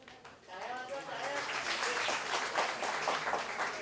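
An audience at an honours ceremony applauds, a dense wash of clapping that swells after a spoken name and holds steady, with a voice audible over it at the start.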